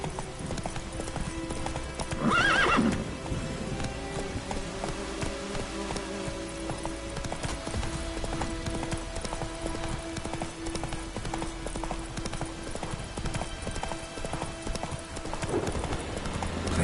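Roach, a horse in The Witcher 3: Wild Hunt, clip-clops along at a steady gallop, with a brief loud neigh early on over constant hoofbeats and faint background ambience.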